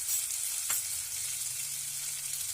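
Green chillies and peas frying for daliya in a pan, a loud steady sizzle close up with one brief clink of stirring and no talk.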